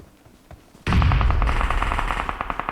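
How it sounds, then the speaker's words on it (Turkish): Sustained automatic gunfire from PUBG Mobile erupts abruptly after a quiet start and keeps rattling loud and close in rapid bursts for the rest of the stretch, with no talk. "Bak oralardan birileri sıkıyor."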